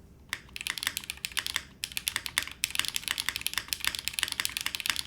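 Rapid clacky typing on a mechanical keyboard with spring resonance and a touch screen knob, dense close keystrokes with a bright ringing edge, two short pauses, and no voices.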